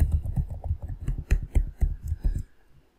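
A password is being typed on a computer keyboard: a quick run of close, crisp keystrokes of uneven rhythm for a couple of seconds, then a stop, with no talk.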